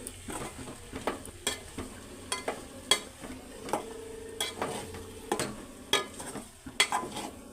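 Chili powder and salt are stirred into a pan of frying food, giving a low background sizzle with repeated sharp scraping and tapping strokes from a utensil, close and fairly soft.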